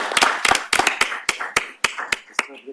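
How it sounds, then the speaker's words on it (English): Audience clapping at an academic panel session on reproductive care law, a round of irregular hand claps from a small crowd, fairly close, tapering off at the end with brief low murmuring. "Round of applause."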